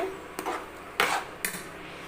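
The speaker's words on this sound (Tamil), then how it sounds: "நல்லா கிளறி விட்டுகிட்டே இருங்க" A utensil stirs a thickening milk and bread mixture in a pan, making three distinct scraping clinks against the metal about half a second apart, with quiet pauses between them.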